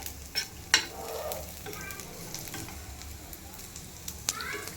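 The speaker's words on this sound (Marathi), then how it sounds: "कांदा लसूण खोबरं सुकं ते भाजून तेलात घ्यायचं" Onion, garlic and dry coconut roast in oil for a masala, giving a soft continuous sizzle under a few sharp clinks and scrapes of a spatula against the pan.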